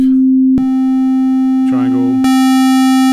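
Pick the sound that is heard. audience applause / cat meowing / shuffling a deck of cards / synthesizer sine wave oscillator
synthesizer sine wave oscillator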